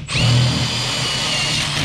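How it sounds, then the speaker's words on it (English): A power drill bores a hole through wood inside a shed being converted to an office, a loud close whine that spins up and holds steady for under two seconds. "Just drilling a hole here for the electrical."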